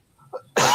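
A person's sudden sneeze bursts out loud and broadband after a brief quiet breath-like intake, close to the microphone in a room during a casual trivia game.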